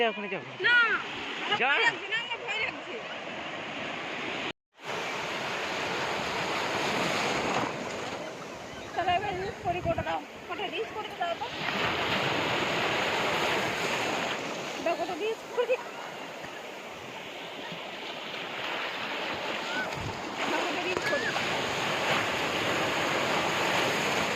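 Sea water surging around Nishkalank Mahadev temple, waves washing and splashing in a steady rush with wind noise, a voice talking over it throughout.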